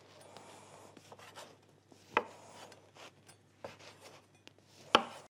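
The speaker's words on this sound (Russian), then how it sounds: "Снова нужно нарезать хлеб." A knife cuts through bread on a kitchen board while muffins with bacon and zucchini are being made, giving quiet rasping strokes with a few sharper close cuts at irregular intervals.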